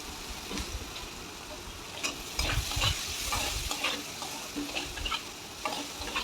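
Chopped onions fry in hot oil with whole cumin in a pan while a spatula stirs them, giving steady sizzling with repeated scraping and clatter throughout, close and fairly loud.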